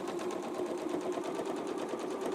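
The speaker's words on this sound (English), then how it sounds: "Same thing, a little back stitch just for security." A sewing machine back stitches mask fabric in a steady, fast rapid whir that continues unbroken and close at even loudness throughout.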